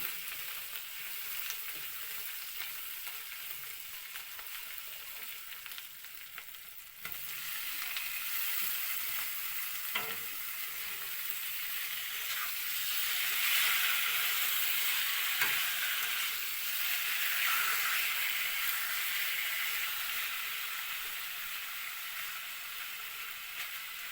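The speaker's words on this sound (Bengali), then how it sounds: "ভালো করে মশলাটা ভাজা ভাজা করে এরপরে কচু সিদ্ধটা দিয়ে দিন" Masala with cumin powder and boiled taro fry in a pan, giving a continuous close sizzle with a hissing crackle that swells midway, broken by occasional stirring scrapes.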